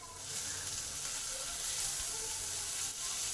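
Ginger garlic paste sizzles in browned frying onions for a fish roe curry, a soft, even, continuous hiss heard close and alone.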